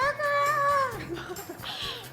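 A person, likely a child, imitates an angry rooster crowing, but the rising and falling vocal cry comes out sounding like a cat's meow, followed by softer murmuring.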